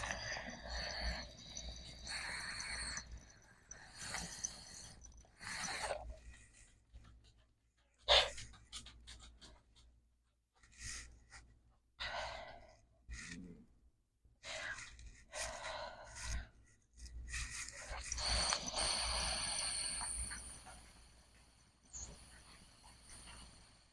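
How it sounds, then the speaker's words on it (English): Lena, a pet dog, panting in quick rhythmic bursts up close, with gasping breaths and snorts broken by short pauses, no voices over it. "There's my dog, Lena."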